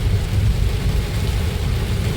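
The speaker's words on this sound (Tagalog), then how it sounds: "Grabe ulan." Heavy rain with thunder pours down steadily over a slippery road, a deep rumbling underneath, a dense, loud downpour, with no talking.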